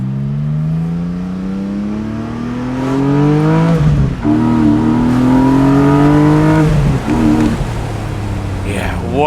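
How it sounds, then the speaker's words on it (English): A Porsche 718 Boxster GTS 4.0 with the top down pulls hard, its flat-six engine and exhaust climbing through the revs in rising sweeps, pausing briefly at each gear change before surging again, loud and close. "But you put the top down and you get all that exhaust noise. Now we'll do one more pull here."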